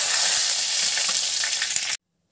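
Whole spices, cumin, cinnamon, cardamom and a bay leaf, temper in hot oil with a dense continuous sizzle and faint crackles, near and steady, no one speaking, then a sudden cut to silence.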